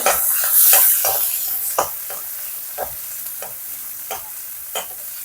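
Chopped large onion sautéing in a pan, with a steady soft sizzle broken by repeated spatula stirs and scrapes at regular intervals. No one speaks.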